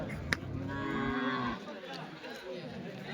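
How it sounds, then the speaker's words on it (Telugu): At the Chintamani weekly cattle market, calves give one long nearby moo that rises and fades, over a low murmur of crowd chatter. "ఇవన్నీ దూడలన్నీ కొని కట్టేశారండి"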